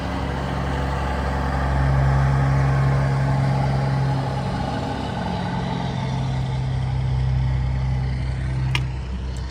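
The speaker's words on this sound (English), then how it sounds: "This is truck 104." Truck 104 idles with a steady low engine drone that swells slightly and holds for several seconds outdoors, with a faint click near the end.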